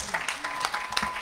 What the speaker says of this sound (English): Can we give the Lord a clap offering?